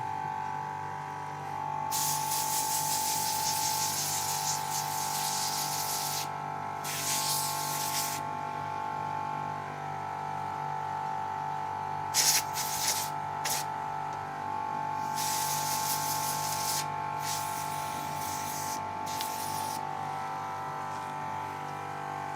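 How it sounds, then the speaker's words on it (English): A small air compressor runs steadily nearby in a sawmill workshop during a springtime service, giving a continuous hum with loud hissing air bursts that come and go throughout. "Sorry about the noise, it's just the compressor"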